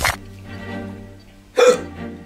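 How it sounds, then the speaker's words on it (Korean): Two sharp hiccups from a person, about a second and a half apart, loud and close, with a low hum between them. "아, 딸꾹질까지나"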